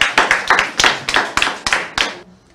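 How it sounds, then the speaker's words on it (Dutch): A few people clap in a steady, sharp rhythm, about ten distinct close claps, at the opening of a vaccination week in Brokopondo, Suriname, honoring a local health clinic, then stop abruptly. "Ik denk dat u dat u een applaus verdient."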